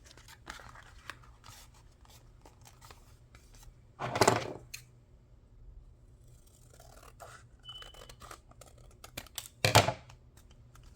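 Paper being cut for a handmade ephemera box: two short, crisp snipping bursts spaced several seconds apart, close and moderately loud over a quiet room background.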